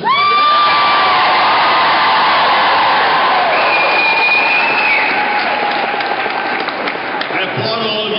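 Crowd of rallying nurses applauding and cheering, dense sustained clapping with whoops and shouts filling the space throughout, loud and close.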